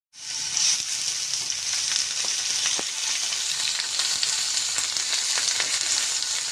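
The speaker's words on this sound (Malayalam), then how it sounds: "ഇഞ്ചി വെളുത്തുള്ളി പേസ്റ്റ് ഇട്ട് നന്നായി" Ginger garlic paste sizzling steadily in a hot pan with curry leaves, a continuous bright frying hiss with occasional pops and crackles, close and fairly loud, no talking.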